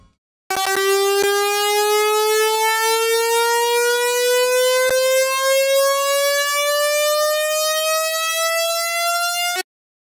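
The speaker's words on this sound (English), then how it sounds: "And now here's our riser sound." A synth riser made with the Harmor synthesizer in FL Studio: a buzzy, harmonically rich tone climbing steadily in pitch for about nine seconds, then cutting off abruptly, with a couple of faint clicks.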